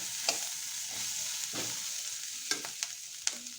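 Fresh curry leaves hitting hot oil for an arati puvvu (banana flower) curry give a steady sizzle with a few sharp crackles and stirring clinks spaced through it. No voices.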